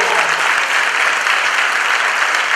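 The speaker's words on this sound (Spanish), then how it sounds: "por favor, un aplauso" A theatre audience applauding, dense and steady clapping from many hands close by for a few seconds without pause.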